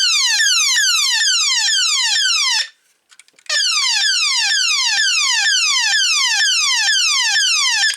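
A loud electronic Transformers G1 Decepticon Shockwave toy effect of rapidly repeating descending beeping sweeps, cutting off briefly with a few clicks before resuming in the same fast pattern.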